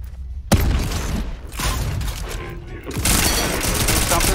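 Gunfire in the video game Volcanoids, with a sharp shot followed by dense, sustained rattling bursts and booms, loud and close over continuous game noise.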